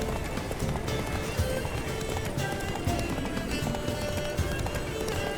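A galloping horse in The Witcher 3 video game, steady rapid hoofbeats under a dense layer of game noise and music, continuous and fairly loud.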